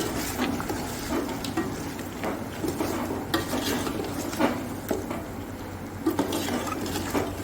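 Chicken being mixed with turmeric, cumin and salt in a pan, a spoon scraping and knocking repeatedly against the metal with a steady low sizzle, close up and moderately quiet.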